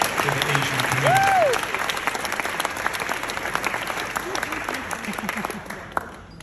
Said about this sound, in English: Let's give the founding family a round of applause for their hard work and